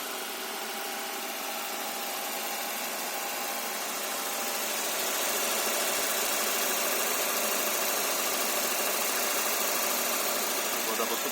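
Toyota 5A-FE engine running steadily while water is fed in for decarbonization, a dense, noisy hum that grows slightly louder partway through, with faint ticking and knocking underneath and nobody speaking.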